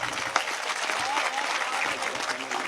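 Sustained audience applause at a Hindi poetry recital, a dense, steady wash of many hands clapping that fills the whole stretch at constant loudness, with a faint murmur of voices beneath.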